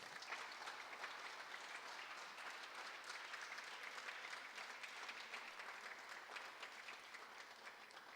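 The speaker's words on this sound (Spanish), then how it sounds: "Le puedes dar un aplauso al Señor." A church congregation applauding, a dense, steady wash of clapping from many hands that carries evenly from start to finish with no pauses, a moderately distant crowd sound filling the room.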